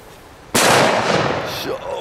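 A firework banger goes off with one sudden, very loud blast, its harsh boom ringing out and fading over about a second before voices break in.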